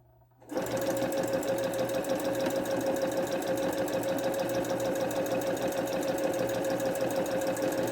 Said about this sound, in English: So here I'm going to start sewing.